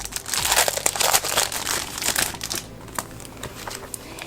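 Pages of a new Erin Condren planner book being flipped, a busy run of close crinkling and papery rustles that thins into a few lighter flicks.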